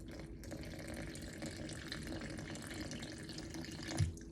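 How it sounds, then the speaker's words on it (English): Tap water pours steadily into a bowl for homemade bread dough, a constant close rush of running water with a brief knock near the end. "I'm gonna start adding my water."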